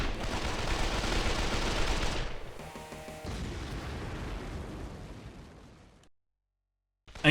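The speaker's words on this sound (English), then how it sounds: "the great vampire and crime lord falls to mass gunfire" Mass gunfire in the video game Escape from Paradise City, a dense, loud roar of overlapping shots and blasts that thins out, then cuts to near silence before a final burst.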